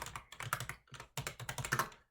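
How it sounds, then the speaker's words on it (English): Computer keyboard typing into Notepad on a desktop PC, heard as two close, quick bursts of clicky keystrokes separated by a short pause, with no talking. "and then I type in some random text"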